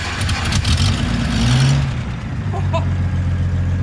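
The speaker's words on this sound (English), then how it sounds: "start this thing up so you guys can hear it" Straight-six engine firing up from a cold start and settling into a loud, steady idle, with a low rumble building after a brief cranking phase and holding close by.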